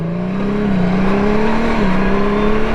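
A Honda Goldwing DCT motorcycle pulls away from a dead stop, its engine note climbing in a smooth, loud hum with a quick dip at a shift and then building again, close up with no talk.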